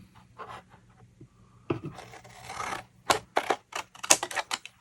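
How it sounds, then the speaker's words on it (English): Paper is cut with a paper trimmer or scissors while making a Valentine gift basket craft, giving soft scraping rasps early on, then a run of sharper, louder snips and slicing strokes close by, with no talking. "Now you can take your paper trimmer or your scissors, and you're going to cut from that mark down to that."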